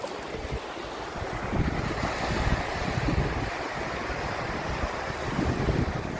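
Ocean waves wash ashore in a steady roar, mixed with wind buffeting the microphone, continuous and fairly loud.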